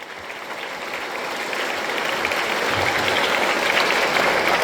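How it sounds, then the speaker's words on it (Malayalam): Students at a class assembly at St. Joseph's HSS, Pulincunnoo applaud together, a dense wash of clapping from a crowd that builds slightly in volume and holds steady throughout, with no speech over it. "നല്ലൊരു കൈയടി അവർക്ക് കൊടുക്കുക."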